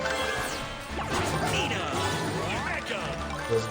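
Objects get smashed in the video game Squad Busters, a dense run of crashes, whooshes and breaking effects layered over game music, with a louder hit near the end.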